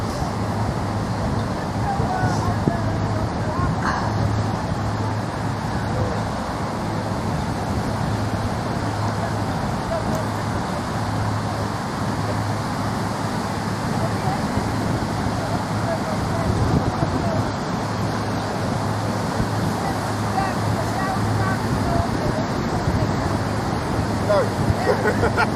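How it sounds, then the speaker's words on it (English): Cold wind blows steadily outdoors in the Netherlands, a constant broadband rush with a low hum like distant traffic beneath it, continuous and fairly loud for the whole stretch with no talk over it. "that wind is so cold"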